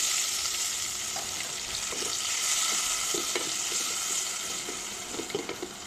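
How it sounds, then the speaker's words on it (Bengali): Tomatoes fry in a pan with a steady, hissing sizzle, joined by soft scattered stirring scrapes and no talking. "টমেটো একটু ভেজে নেব।"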